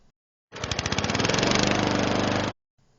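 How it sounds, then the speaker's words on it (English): A lawn mower engine starts up abruptly and runs loud and steady for about two seconds with a rough, throbbing drone, then cuts off to near silence while mowing a yard. "So I figured that this would be a great time to mow the lawn."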